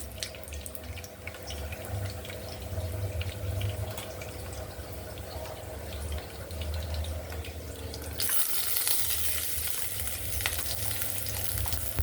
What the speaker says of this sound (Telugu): ఇప్పుడు మనం మంచూరియా కోసం ఆనియన్స్ అవన్నీ ఫ్రై చేసుకుందాం